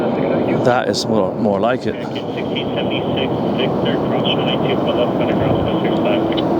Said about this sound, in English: making some proper noise down there with their reverse thrust